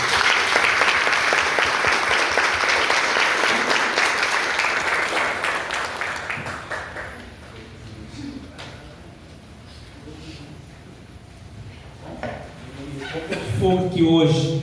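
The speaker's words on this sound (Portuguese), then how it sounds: "Quem se sentir escolhido por Deus nessa noite, fica de pé e aplaude Jesus." A church congregation at an evening service stands and claps loudly for several seconds, the applause thinning out partway through as a preacher keeps talking over it.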